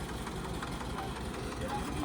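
An HMT 2511 tractor engine runs steadily during concrete slab pouring in a village, a continuous low rumble with a rough knocking texture, close and constant, with voices over it.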